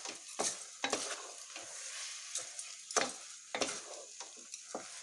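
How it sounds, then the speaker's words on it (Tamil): Yellow pumpkin pongal boils in a pot while a spoon stirs it, giving sharp scraping strokes every second or so over a soft, steady bubbling sizzle. "கொஞ்சம் கொதிக்க விட்டுடலாம், கைவிடாமல் கிளறிடலாம்"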